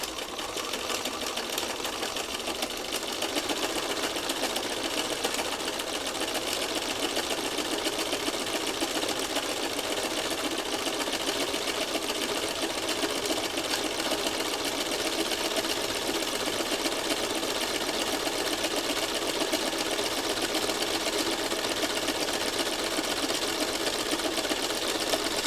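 A sewing machine runs steadily stitching over fabric along a drawn line, a continuous fast whirring hum that stays even and close throughout with no talk.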